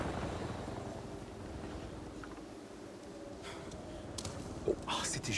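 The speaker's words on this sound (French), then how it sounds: "Ah, j'entends des hélicos arriver." Helicopters arriving in the Avatar video game, a faint steady rotor drone in the distance beneath a quiet game ambience, with a few brief clicks near the end.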